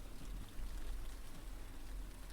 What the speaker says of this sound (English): Is it raining outside?